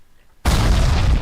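A crafted furniture piece explodes in a video game's crafting system: after near silence, a sudden loud broadband blast bursts in and holds as a dense roaring rumble to the end.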